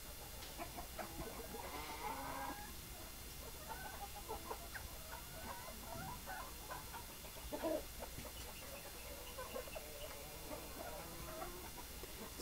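Sampin native chicken hens cluck softly and repeatedly in a farm setting, with scattered calls over steady background noise and one louder cluck midway.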